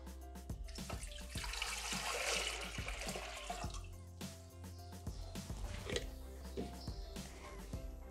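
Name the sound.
water poured into Thermomix jug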